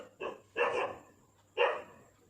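A dog barks three times at close range, two quick barks followed by a third after a short pause, loud and clear against a quiet indoor background with a low steady hum.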